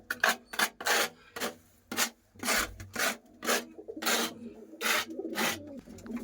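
Dirt is scraped off the floor of a pigeon house in repeated rhythmic rasping strokes, loud and near, with brief pauses between them and a faint pigeon coo in the background.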